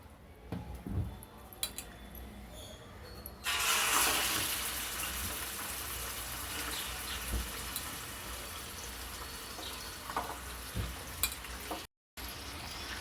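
Chicken livers and gizzards dropped into a few spoons of hot oil: a quiet start, then a sudden loud sizzle that settles into a steady frying hiss with light stirring clinks.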